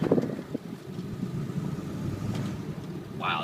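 A truck with a 7.3 engine idles steadily close by in 4 low as it is shifted into drive, a low continuous rumble with a brief higher-pitched whine near the end.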